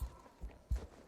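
Horse hooves clip-clop in three distinct thuds across the Christmas horses' stable in Star Stable Online, close and moderately loud, with no talk.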